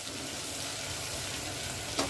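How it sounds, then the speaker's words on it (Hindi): String beans (barbati) fry in hot oil with a steady, close sizzle that fills the whole stretch, ending in one short scrape or stir. "बरबट्टी को हम थोड़ी देर के लिए तेल में, ताकि हमारा थोड़ा तेल में फ्राई हो जाए बरबट्टी।"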